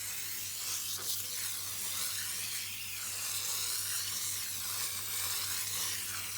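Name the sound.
foaming coil cleaner sprayed on air conditioner aluminum fins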